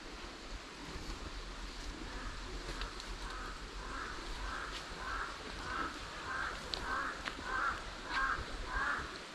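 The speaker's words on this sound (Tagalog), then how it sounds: "dami pong uwak sa taas yun" Several crow caws repeat overhead at a steady pace over a constant wash of surf and wind, moderately distant, near a river.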